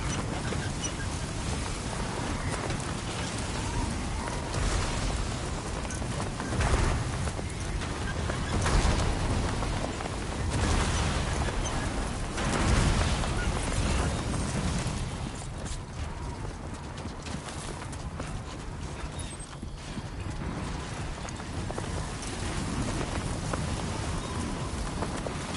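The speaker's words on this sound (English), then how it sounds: "Storm's coming through." A heavy rainstorm sweeps through in Death Stranding: dense, steady rain hiss with low rumbling, loud and continuous throughout with slight swells, no voices.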